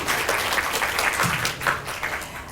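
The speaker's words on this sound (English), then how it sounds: "A big round of applause to our speakers." Audience at a panel discussion clapping for the speakers, a lively, fairly close burst of applause with dense overlapping claps that tapers slightly toward the end.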